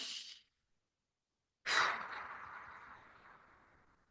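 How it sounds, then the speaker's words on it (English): Two breaths, likely through the nose and then the mouth, during an anxiety-calming exercise: a soft, brief airy puff, a pause of silence, then a stronger, longer whooshing exhale that slowly fades, close to the microphone. "breathe in through your nose and exhale out through your mouth"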